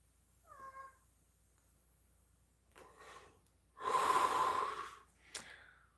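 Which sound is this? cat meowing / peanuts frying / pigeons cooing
cat meowing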